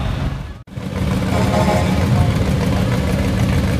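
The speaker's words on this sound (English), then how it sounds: "How come this Cobra is so quiet compared to the rest of them?" Steady low engine rumble from a Cobra car running quietly and idling in the Pearl Harbor Memorial Parade, continuous and moderately loud with a brief dip near the start, no talking.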